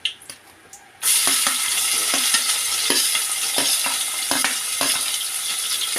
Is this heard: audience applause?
no